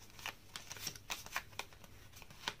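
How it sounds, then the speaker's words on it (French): Tarot cards are shuffled by hand, giving a soft, quick run of papery riffles and light taps at low volume with no talking. "on va mélanger tout ça"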